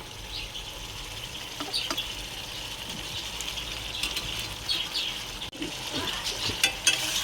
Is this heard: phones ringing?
no